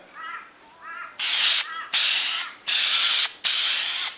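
A rubbery spray paint coat goes onto a car headlight in four loud, close hissing bursts of about half a second each, separated by short pauses, with a few faint bird calls just before.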